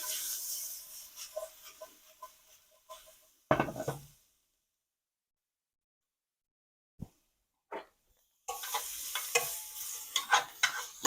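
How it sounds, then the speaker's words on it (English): Vegetables are sautéed and stirred in a pan for chicken basil pesto pasta, with close scraping and sizzling, then a knock and near silence before a few taps, and brisk stirring and frying return at the end. "Stir up your vegetables."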